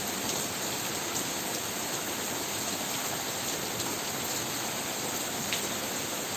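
Steady rain falls on Buttar village in an even, unbroken hiss, moderately loud and continuous throughout, with no voices.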